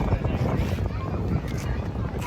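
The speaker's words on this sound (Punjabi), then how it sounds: "ਠੰਡੀ ਹਵਾ ਚੱਲਦੀ ਆ" Steady cold wind gusting across the microphone on the route to Hemkunt Sahib, a continuous low rumble with a hiss on top, filling the whole moment.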